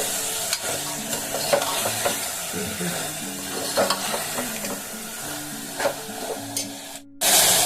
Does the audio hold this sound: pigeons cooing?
no